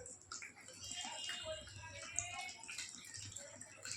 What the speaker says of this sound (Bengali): এই চিড়েটাকে আমি ধোবো।